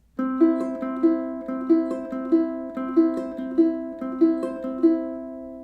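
A ukulele plays a steady repeating fingerpicked pattern, each note ringing clearly in an even rhythm, with no voices.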